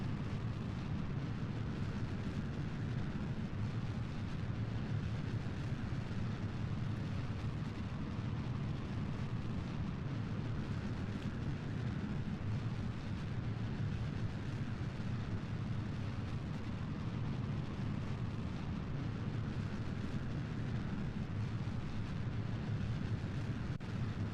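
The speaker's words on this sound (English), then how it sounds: "Throttle all the way up. Bingo, bango, bongo. And we have liftoff." A rocket engine roars at liftoff in Kerbal Space Program as a constant, heavy low rumble that holds steady for the whole stretch.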